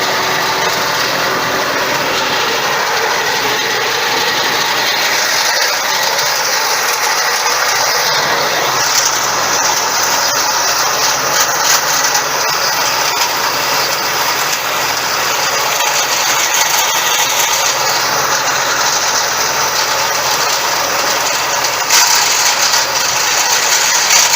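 A Yanmar FX 305 tractor runs steadily in first gear with its rotary tiller spinning during mowing, giving a loud, continuous mechanical drone with rattling and whirring gear noise close to the microphone and no voices.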